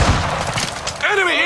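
Gunfire in the video game Call of Duty DMZ, a short, loud volley of booming shots. A voice-like tonal call follows near the end.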